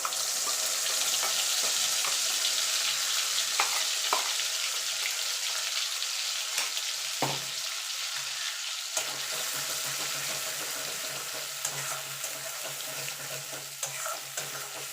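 Spice paste frying in the oil left over from frying eggs, for a Bengali egg curry: a steady, loud, close sizzle with occasional stirring scrapes and clicks, no voices.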